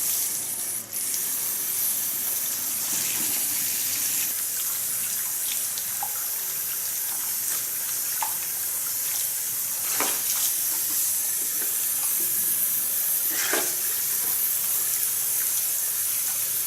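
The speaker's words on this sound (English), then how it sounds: "Okay, gonna rinse it out." Running water from a salon tap rinses hair dye out of hair, a steady close hiss of spray that continues throughout, with faint splashes and knocks breaking through now and then.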